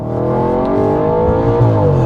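Audi RS4 Avant with a 4.2 V8 and sports exhaust, loud and close as the engine revs, a rich harmonic roar rising in pitch while the note climbs, with no voices.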